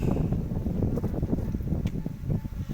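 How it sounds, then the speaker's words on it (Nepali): Wind blows outdoors during a honeybee swarm capture, a steady low rumbling buffet of gusts on the microphone with faint rustling, continuous and fairly loud, with no voices. "अहिले हावा चलेको छ"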